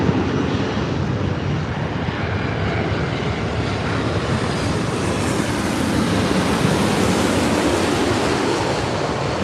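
A Boeing 787-9 Dreamliner at Los Angeles airport produces a loud, steady broadband jet roar that swells slightly over several seconds, heard close and alone with no talking.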